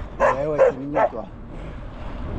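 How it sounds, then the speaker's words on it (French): Two dogs greet arrivals on a winter mountain-bike ride, giving three quick, close yips and barks in a short burst, then outdoor ambient noise with no further barking. "Salut les chiens."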